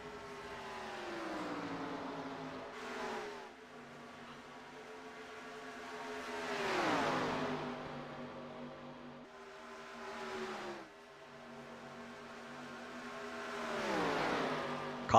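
Stock cars in an iRacing NASCAR race at Talladega Superspeedway roar down the front stretch, engine tones rising and falling as packs sweep past in repeated waves, loud and without talk.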